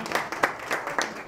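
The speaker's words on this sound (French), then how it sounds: "Je crois que vous pouvez vous applaudir." Scattered audience clapping at a New Year's greetings presentation, a handful of distinct sharp claps at uneven intervals, fairly close, with no voices over them.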